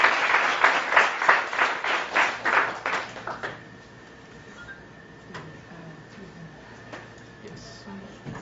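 A conference audience gives a round of applause, a dense burst of clapping for about three and a half seconds that then fades out, leaving a quiet room with faint scattered sounds.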